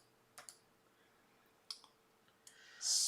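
Three quiet mouse clicks, spaced out, while an iron-on tote design is set up on a computer, then a brief louder hiss at the end.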